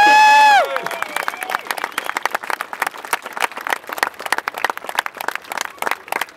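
A crowd at a drift competition awards ceremony breaks into steady applause after a voice announces the winner, with scattered cheering under the clapping.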